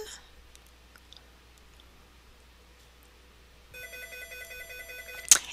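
A telephone rings indoors with a repeated warbling electronic trill that starts abruptly after quiet room noise and continues for a couple of seconds, ending with a sharp click.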